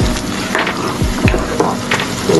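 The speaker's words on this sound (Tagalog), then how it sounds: "Kumukulo na rin." Steady loud sizzling and bubbling of liquid boiling in a pan while making Egyptian khosari, with occasional soft clinks and stirring sounds.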